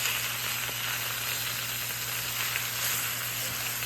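Mushrooms and sausage sizzling in a pan over very low heat, making a steady, dense, close crackle with faint pops throughout and no voices.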